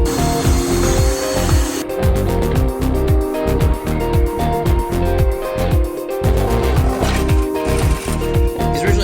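A power tool drills mounting holes for water tanks, a steady loud whine with rhythmic pulsing bursts running throughout.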